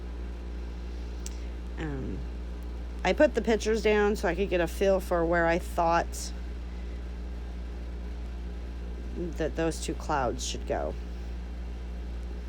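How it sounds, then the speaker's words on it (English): A room air conditioner runs steadily in the background as a low, constant hum throughout, under a person talking while arranging a scrapbook layout. "I am sorry if you hear my air conditioner kicking on in the background"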